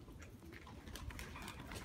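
Pigeons cooing in a dovecote, soft and somewhat distant low murmuring calls repeating over a quiet background with no talk.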